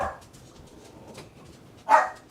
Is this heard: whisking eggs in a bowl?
no